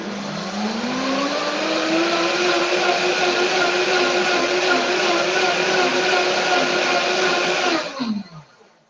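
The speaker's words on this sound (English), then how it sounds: "A little bit of warm water into the blender and just using the pulse function." An Optimum blender pulsing warm water whirs loudly and steadily for about eight seconds, then winds down and stops near the end.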